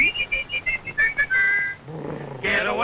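Whistled notes in an old-time song come as a short run of quick rising pips and then a longer held tone, moderately loud, with a brief vocal sound after.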